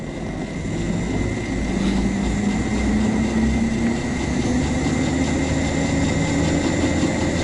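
An electric motor fitted to a converted petrol quad bike, run at full throttle, gives a steady, loud whine that climbs slowly in pitch over a constant mechanical drone.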